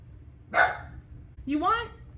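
A dog barks twice close by, a short sharp bark followed by a longer, higher bark, over a quiet room background.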